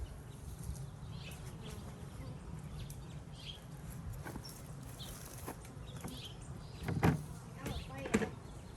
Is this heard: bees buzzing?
yes